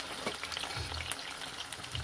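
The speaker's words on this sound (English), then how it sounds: "so it is frying and popping" A large fish for Jamaican brown stew fish frying in hot oil, giving a soft steady sizzle with scattered small pops, faint and close.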